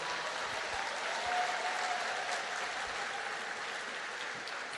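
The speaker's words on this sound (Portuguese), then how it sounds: "Dá uma salva de palmas para o Senhor." A church congregation at a worship service applauds the Lord with steady, dense clapping that forms a continuous wash at moderate distance and fairly low level, holding evenly throughout.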